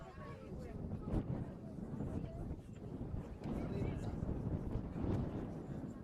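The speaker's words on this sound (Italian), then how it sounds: "Sentite in sottofondo il vento inclemente soffiare qui in Puglia." Strong wind gusting across an outdoor women's Serie C football match in Puglia, a broad continuous roar with swelling gusts buffeting the microphone, heard throughout under an announcer's speech.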